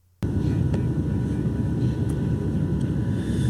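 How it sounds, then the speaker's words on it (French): Airplane cabin noise during flight in a film scene, a steady dense broadband roar that kicks in abruptly after a brief quiet start and holds constant, with a few faint clicks over it. "Vous êtes dans un avion en plein vol."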